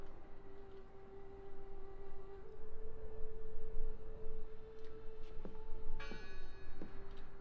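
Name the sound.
bell ringing in the video game Draugen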